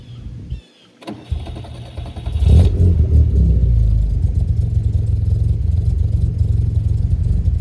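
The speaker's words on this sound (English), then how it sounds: "So here we go with the startup. We'll have a listen to the engine, the exhaust" A 1980 Fiat 2000 Spider with a throatier aftermarket exhaust cranks briefly, then catches and settles into a steady, rumbling idle close by, with no talk.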